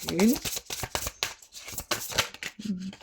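Tarot cards are shuffled and drawn in quick papery riffles and soft slaps, a rapid irregular run of close, light snaps over a few seconds, with faint voice sounds mixed in.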